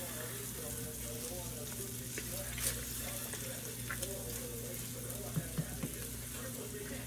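Cabbage cooks in butter in a pan, giving a quiet, steady frying sizzle with a few faint clinks and small pops, close by and with no voices.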